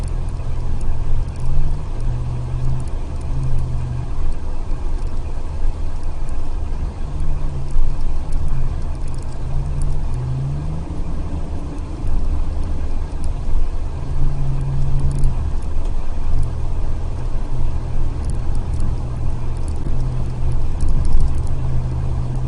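Car cruising west on the I-696 freeway in Michigan, with a steady, loud road and engine rumble and tire roar continuing throughout, plus small rattles inside the cabin; no one talks.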